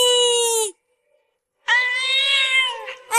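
Two loud, close cat meows separated by a short silence: a drawn-out first cry, then a longer, wavering yowl.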